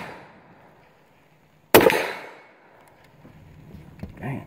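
A single loud, sharp shot from a Taurus PT 1911 pistol in .38 Super cracks out nearby after a quiet stretch, followed by a decaying echo and faint handling noises.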